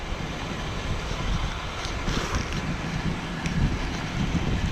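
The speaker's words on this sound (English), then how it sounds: "It's a little windy today, but it's okay." Wind buffets the microphone in steady low gusts, a continuous rough rumble outdoors with no voices.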